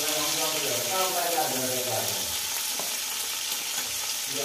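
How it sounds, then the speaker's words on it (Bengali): Tangra fish sizzles in a hot pan while being stirred, a steady close frying crackle with scraping movements, and a voice talks faintly over part of it. "এইখানে ভাজতে দিয়েছি আমি ট্যাংরা মাছ, ট্যাংরা মাছটা ভাজিয়ে দিই"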